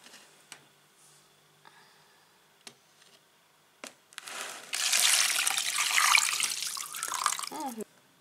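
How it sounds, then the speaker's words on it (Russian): Brine poured from above into a container of salted herring: a few small clicks and knocks, then a steady, close gush of liquid lasting about three seconds before it stops. "И выливаем наш рассол."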